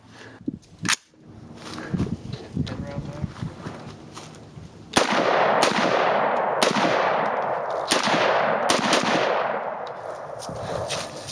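Rapid 9mm shots from a CMMG Banshee, sharp loud cracks repeating at irregular intervals with heavy concussive reverberation trailing each report, preceded by quieter handling noise.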